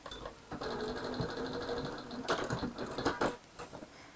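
A domestic sewing machine back-stitching a quilt seam runs in a steady rapid clatter close by, with a brief pause and a few sharper mechanical clicks near the end.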